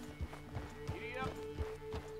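A horse in Red Dead Redemption 2 gallops in a steady, quick rhythm of hoofbeats, with a brief whinny and a voice over it.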